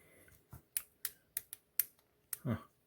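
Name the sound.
action figure joint clicking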